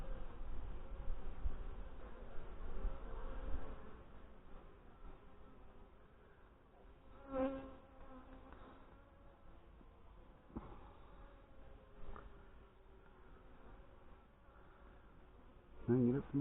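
Honey bees buzz steadily around an open beehive during a September inspection of a colony still trying to swarm, a continuous insect drone with occasional louder passes close by.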